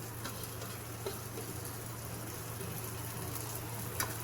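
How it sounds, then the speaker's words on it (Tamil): Tomato and cabbage sauté in a pan for a South Indian chutney, giving a faint, steady sizzle with a low hum underneath and occasional small clicks, quiet and without any talking. "இது வந்து ஒரு 1 மினிட் கொஞ்சம் நல்லா வதங்கட்டும்."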